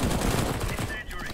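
Rapid automatic gunfire in Counter-Strike: Global Offensive, a dense, loud burst of shots that breaks off briefly before another shot.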